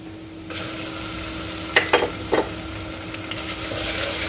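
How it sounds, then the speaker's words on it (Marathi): Green masala paste stirred and frying in hot oil with browned onions, a steady low sizzle with a few sharp scraping stirs in the middle, close and moderately loud. "आता यामध्ये हे आपण हिरवं वाटण टाकून द्यायचं आहे"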